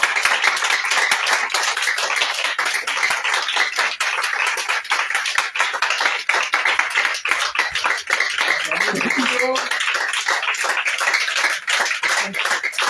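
A prayer-meeting congregation claps continuously to acclaim Jesus, dense rhythmic hand claps filling the room loudly and steadily, with faint voices briefly underneath.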